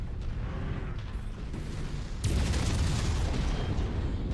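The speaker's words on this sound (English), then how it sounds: "Okay, ammo explosion." A heavy ammunition explosion booms through a mech combat video game, a dense rumbling roar that grows louder and fuller partway through and sustains to the end, with no talk over it.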